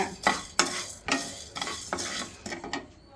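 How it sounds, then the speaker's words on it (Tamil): Coriander seeds and chana dal dry roasting in a pan, stirred with a spoon that scrapes and rattles in a steady series of close strokes, with a faint sizzle underneath and no voices. "தனியாவை போட்டு கொஞ்சம் வறுத்துக்கோங்க. தனியா பாதி வறுத்துட்டு இருக்கும்போதே கடலைப்பருப்பு போட்டுக்கோங்க."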